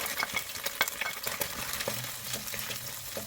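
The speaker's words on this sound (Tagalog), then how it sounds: "pag may natirang konting olive oil, ay igigisa na natin itong ating bawang" Garlic sizzles in a little olive oil in a wok over low-medium heat for a chicken and noodle stir-fry, with a loud, steady frying crackle and repeated scraping stirs close by.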